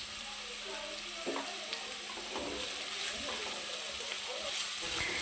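Sliced onions and curry leaves fry in oil in a pan with a continuous sizzle, broken by a few clicks and taps of a stirring spoon, close and without talk.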